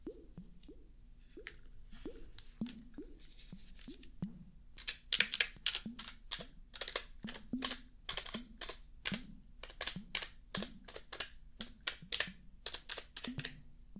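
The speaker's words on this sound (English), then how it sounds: "let me just type you into our system" Fast, crisp keystrokes on a computer keyboard in a quiet ASMR roleplay, coming in irregular close bursts with short pauses between them.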